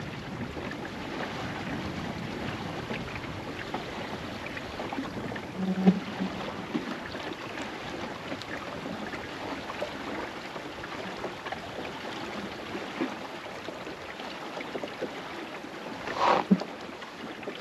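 A sailboat moving through shallow water about three feet deep among oyster beds, giving a steady low wash of water and wind noise with a couple of brief knocks, no talk.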